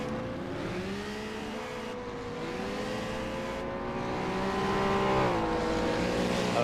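Racing cars at the Tourist Trophy circuit at Dundrod, in a sim racing event, with engines droning and shifting pitch as cars pass on track. The sound is steady and loud, with gear changes and rising revs.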